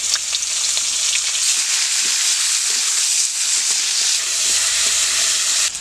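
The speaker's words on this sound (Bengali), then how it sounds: "ফুলকপি আর আলুগুলো ভেজে নিতে হবে।" Cauliflower and potatoes fry in hot oil in a pan, giving a continuous bright sizzle with small crackles and pops, steady and close throughout, with no voices.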